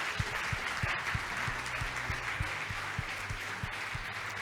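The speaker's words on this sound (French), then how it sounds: "On vous applaudit très fort" A small crowd applauding, steady clapping with a few sharp individual claps standing out, sustained throughout without voices over it.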